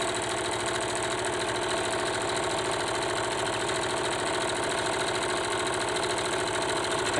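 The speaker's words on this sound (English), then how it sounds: "Make sure you're always backstitching at the beginning and end of your sewing." A sewing machine backstitches along the hem of a fabric face mask, its motor giving a steady close whir with fast, even needle pulses that run unbroken throughout.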